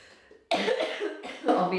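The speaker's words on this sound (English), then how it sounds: "Obviously, I'm still coughing." A person coughs twice in quick succession, close and fairly loud, after a quiet moment.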